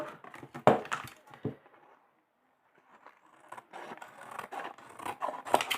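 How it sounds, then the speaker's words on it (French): Scissors cutting down the middle of a card, crisp snipping and rasping strokes up close in two bursts separated by a short quiet pause. "Et là, on coupe bien au milieu."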